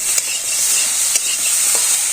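Small fish curry with tomato sautéing in a pan, a close, steady sizzle with a few light clicks from stirring.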